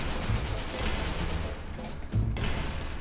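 Gunfire in the video game SCP: Secret Lab: a fast run of shots, then a pause and another heavy burst, loud and near, with game noise beneath.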